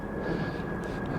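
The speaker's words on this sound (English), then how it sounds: "regardless of the airplane noise" An airplane drones overhead at a Gatorland nature area in Orlando, Florida, a steady, moderately loud engine rumble throughout.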